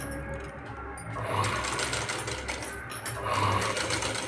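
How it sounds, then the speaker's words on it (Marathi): A sewing machine stitches pleats into a puff sleeve with a fast, steady mechanical whir and rattle. The rhythm pauses briefly and then resumes. The sound is close and continuous, with no talking. "आणि ते आपण शिवून घेऊ आता"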